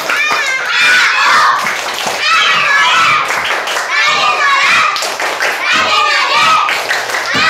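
Children clap in rhythm while chanting the 'tepuk anak soleh' routine in a classroom, steady loud claps mixed with young voices throughout.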